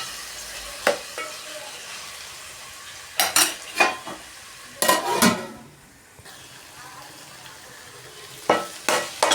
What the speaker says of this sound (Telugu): ఈ టమాటా స్కిన్ వేరేంత వరకు ఫ్రై చేసుకోవాలి